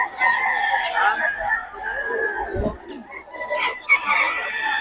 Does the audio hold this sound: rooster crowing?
yes